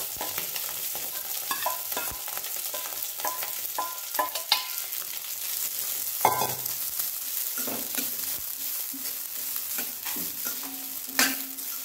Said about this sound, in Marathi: आपण हे धुवून बारीक करून घेतलेले तांदूळ ह्याच्यामध्ये टाकून आपण व्यवस्थित भाजून घ्यायचे।